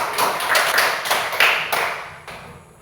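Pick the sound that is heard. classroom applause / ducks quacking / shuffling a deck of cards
classroom applause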